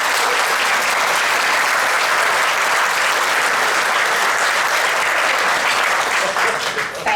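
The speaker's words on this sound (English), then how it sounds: "Would you please give them a round of applause?" A loud, sustained round of applause from a crowd at a chamber of commerce awards celebration in Pickens, continuous and full throughout, with a slight tapering near the end.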